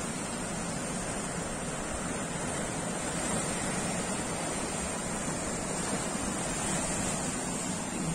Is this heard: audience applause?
no